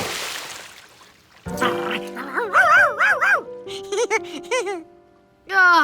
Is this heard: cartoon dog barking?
yes